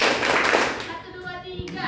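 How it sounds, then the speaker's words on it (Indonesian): An audience claps together in a counted rhythm at a talk session, with a dense burst of hand claps up front giving way to a speaking voice over a few scattered claps. "Tepuk 1 kali, 1 kali, 2 kali, 3"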